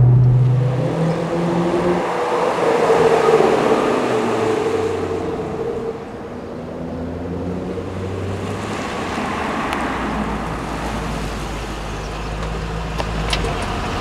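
A Ford VIRTTEX driving simulator's car engine sound hums and roars steadily with low rumbling tones, rising and falling in intensity as the vehicle drives, with no voices.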